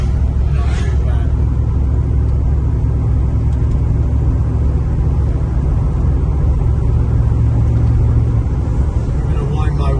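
A 1965 Chevrolet El Camino's engine runs steadily at about 1500 RPM while driving, a loud, continuous low rumble with road noise filling the cabin and no pauses.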